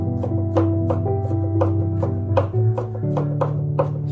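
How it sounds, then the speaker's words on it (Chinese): A knife chops garlic into fine mince on a board in a home kitchen, giving steady, close, evenly spaced thuds about three times a second with no talking. "然后直接把它剁成蒜末就可以了"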